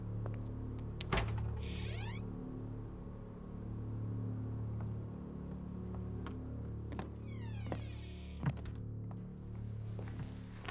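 A door opens with a soft thunk and creak over a low steady hum of room tone, followed by a couple of quieter knocks, as detectives arrive at a suspect's home in a crime drama.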